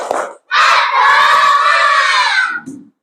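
Elementary schoolchildren in an Indonesian classroom shout a spirit chant together, a short call followed by a loud, sustained group cry of voices, close and lively, ending in a brief murmur.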